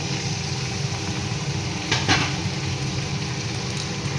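Grated onions frying in hot oil in a pan for Bengali doi chicken, a steady close sizzle with a brief stir or scrape partway through, no voices over it.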